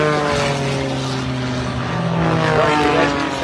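Propeller aircraft flying aerobatics in mirror formation at the Hunter Valley Airshow, a loud steady engine drone with strong harmonic tones that shift slightly in pitch as the planes pass, heard alone without talk.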